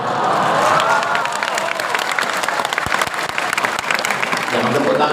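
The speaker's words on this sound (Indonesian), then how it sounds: "Jangan tepuk tangan dulu" A large audience at an Indonesian religious lecture breaks into loud, sustained applause with some cheering, dense clapping that thins toward the end as a few sharper claps stand out.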